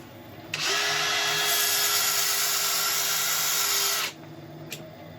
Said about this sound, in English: Now I'm going to sand this little area for about 3 seconds